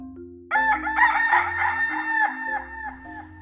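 A rooster gives a single loud, close crow that rises and wavers over a few seconds, layered above a soft, steady tonal background hum.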